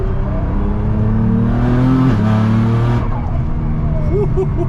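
A turbocharged car pulling hard in third gear with its exhaust valves open, a loud, close engine note climbing in pitch, dropping briefly at a shift, then rising again with a raucous edge.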